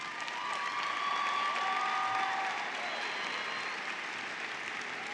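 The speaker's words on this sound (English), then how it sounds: "Give them a round of applause." A high school graduation audience applauds the teachers and instructional assistants, a dense, continuous wash of clapping from a large crowd heard at a distance, steady throughout with a faint tonal line running through it.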